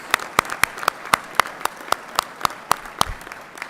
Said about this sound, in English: Please join me in giving a well-deserved round of applause to all of these award recipients.